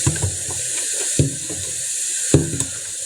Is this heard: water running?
yes